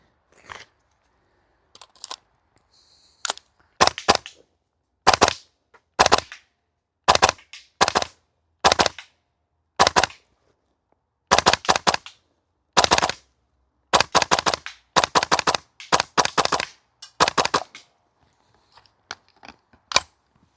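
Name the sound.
Double Eagle DWS Lupus airsoft rifle firing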